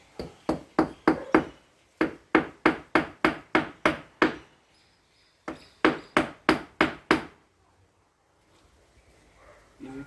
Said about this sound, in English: I'll be driving this nail into this piece of timber here